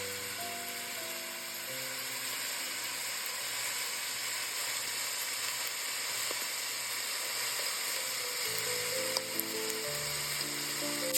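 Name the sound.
onions frying in olive oil in a pot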